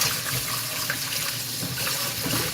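Rice washed under a running kitchen tap: a continuous close splashing stream of water fills the whole stretch at an even level.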